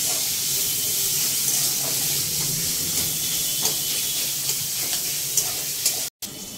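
Chopped onion, ginger, garlic and chilli frying in a pan, a steady bright hiss and sizzle filling the whole stretch, with faint spatters and light ticks, then a brief cut before the sizzle resumes.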